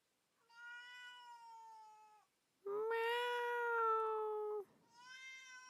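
Cat meowing indoors, three long drawn-out cries close to the microphone, the middle one louder and more strained like a caterwaul, with short silences between and no other sounds.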